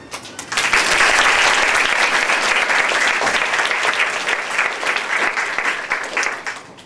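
A lecture audience at Penn State breaks into loud, sustained applause to welcome speaker Nancy Baron, clapping swelling quickly and holding steady before easing off.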